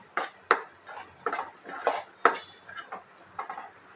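A spoon scrapes and knocks against a pan while stirring lapsi, giving about a dozen uneven, sharp clanks and scrapes at close range.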